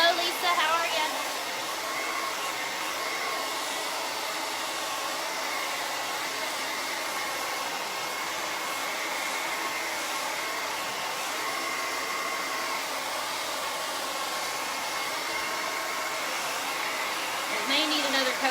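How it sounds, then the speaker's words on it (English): A handheld hair dryer blows steadily while drying paint on a painted baby announcement door hanger, a constant close whooshing drone running throughout with slight shifts near the start and end. "I'm going to stand here and dry this with the hairdryer real quick."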